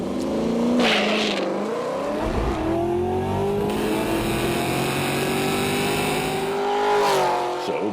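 A Nissan project car with a junkyard 4.8L iron-block engine accelerates hard down a drag strip, its loud engine note climbing steadily through the gears with a brief shift dip, and no talking.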